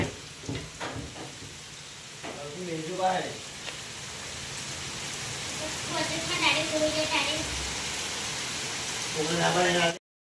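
Broadband hiss of steady heavy rain with large drops and no wind runs throughout, with voices talking intermittently over it before it cuts off at the end.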